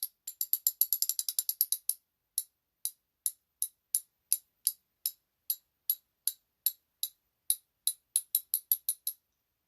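A ratchet wrench clicks crisply and quietly alone, starting with a fast burst of ticks, then slower evenly spaced single clicks, then a quicker run again at the end.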